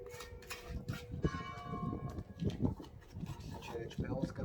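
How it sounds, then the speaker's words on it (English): Church bells ring from a small local church near a Spanish townhouse under renovation, a faint, repeated clanging under nearby clatter, breathing and background noise. "Church bells going off."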